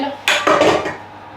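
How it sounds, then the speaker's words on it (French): Dishes being washed in a home kitchen, with a few clattering knocks of pots, pans and cutlery close by over about a second, then fading into quiet. "Et en attendant, on fait la vaisselle."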